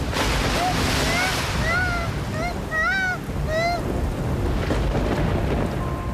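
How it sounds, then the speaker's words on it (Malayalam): Heavy rain with rising water makes a loud, steady broadband roar throughout, with swooping whistle-like tones rising and falling over the top. "മഴയുടെ ശക്തി കൂടിയിട്ടുണ്ട്"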